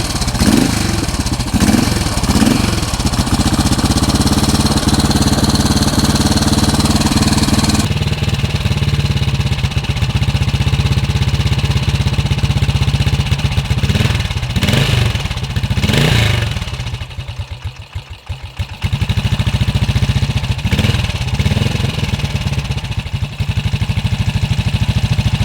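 A 1972 BSA B50SS Gold Star single-cylinder motorcycle engine idles with a close, loud, thumping clatter, then revs in several short bursts of throttle, dips briefly near the end and returns to idle.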